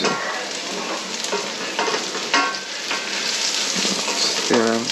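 Onions frying in a pan for Mexican refried beans, a continuous bright sizzle with occasional stirring clicks and scrapes, close and alone.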